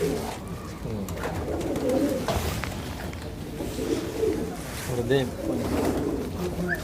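Domestic pigeons kept by a pigeon fancier in Sonipat, Haryana coo in soft, repeated low throaty rolls close by, with a voice talking over much of it.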